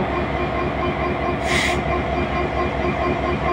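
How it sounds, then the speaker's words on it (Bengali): A train at Tangail railway station in Bangladesh comes to a halt, producing a steady, loud rumble of rolling wheels and carriages with a brief high hiss or squeal midway, and no talk. "ট্রেনটি থেমে গেল।"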